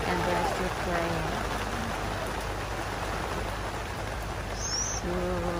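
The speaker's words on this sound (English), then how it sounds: "It's raining super heavily and they're still playing." Heavy rain pours in a dense, steady hiss during an outdoor bubble soccer game, with brief voices speaking under it at the start and end.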